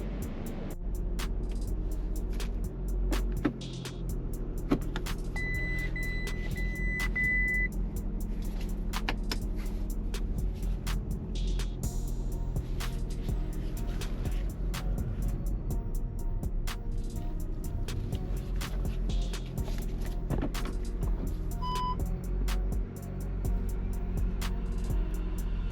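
An Audi A7 is driven into a workshop, its engine a steady low rumble throughout with faint clicks and clatter from the garage around it, and no voices.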